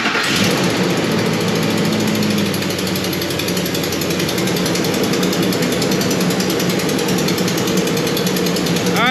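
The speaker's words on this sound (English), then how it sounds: "Starting the engine." Ford 5.4 V8 engine after camshaft phaser and timing chain work, cranking and catching at once, then idling steadily with a loud, even, rapid mechanical clatter throughout.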